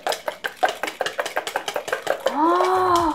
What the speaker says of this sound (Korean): 주걱으로 저어주시는데